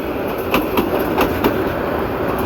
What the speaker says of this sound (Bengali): আন্তনগর চট্টলা এক্সপ্রেস ট্রেনটি ভৈরব বাজার জংশনের 1 নম্বর প্ল্যাটফর্মে এসে যাত্রাবিরতি দিয়েছে